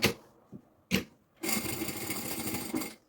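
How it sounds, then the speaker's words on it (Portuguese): A sewing machine stitches a seam over the lining of a preschool backpack. Two short motor bursts come first, then a steady, close, whirring run of stitching lasts about a second and a half. "E vamos passar uma costura"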